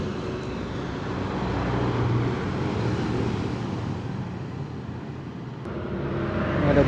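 A Budiman intercity bus passes on a road, its engine and tyre noise rising and falling as a broad roar, with traffic noise continuing around it.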